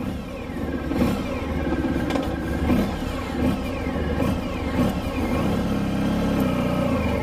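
A 1994 Honda ST1100 Pan European motorcycle pulls away on the first ride of the season, its engine droning steadily with rising and falling revs and rushing wind, close and loud throughout, with no talking.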